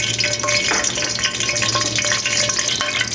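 Three dried red chilies and two bay leaves fry in hot oil for achari chicken, giving a steady, close crackling sizzle with light stirring scrapes throughout.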